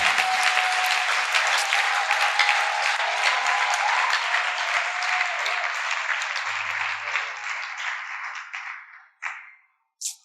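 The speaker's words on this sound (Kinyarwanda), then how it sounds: "Ariko mwakome Imana amashyi mwabana." A church congregation claps together in sustained, dense applause for around nine seconds, then it tapers off and fades out.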